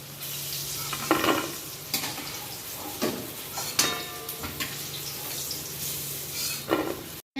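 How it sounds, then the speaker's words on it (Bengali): Crunchy chicken tea-time snacks fry in a pan with a constant loud sizzle, broken by several sharp stirring and scraping sounds from the utensil. "ভাজা হচ্ছে। এবার নামিয়ে ফেলি।"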